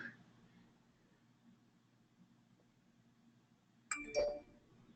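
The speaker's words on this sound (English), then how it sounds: "my phone just keeps going off" A mobile phone gives a short, bright chiming notification near the end, sounding over a quiet room during an online class meeting, with faint voices earlier.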